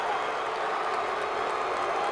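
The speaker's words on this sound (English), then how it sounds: "And the crowd lets the Eagles have it as Kyle Wilber makes that last stop" An NFL stadium crowd roars and boos as the Eagles finish a game against the Cowboys, a dense, steady wall of distant noise filling the whole stretch without a break.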